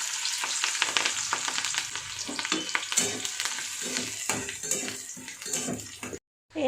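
Chopped garlic, onion, ginger and green chilli sizzle in white cooking oil in a pan, with a steady crackling hiss broken by scraping stirs and clinks of a utensil on the pot, close up, before the sound cuts out abruptly near the end.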